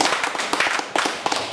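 An audience claps in continuous applause for an engineer named Jean at a gathering, a dense irregular patter of many hands, close and steady throughout.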